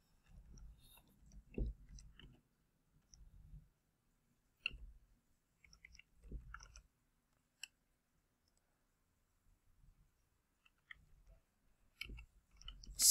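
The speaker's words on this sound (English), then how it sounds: "And then I type in my terms." Keys tapped on a computer keyboard while entering search terms, a quiet scatter of clicks in short bursts with pauses between them.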